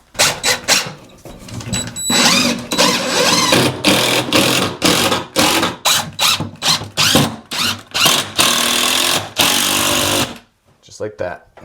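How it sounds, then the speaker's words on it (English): A power driver runs screws into the corners of wall cleats while a closet is turned into a workstation. It fires in about a dozen loud, close bursts of whirring, each a second or less, separated by short pauses, with talk between some of them. "Hit the corners with some screws,"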